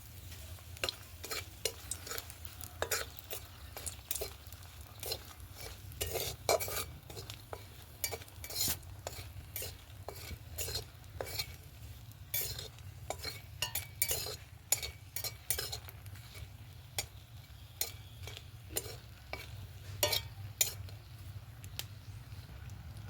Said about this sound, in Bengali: ওই তেলের মধ্যে এবার লঙ্কা ভেজে নেব, তিনটে শুকনো লঙ্কা।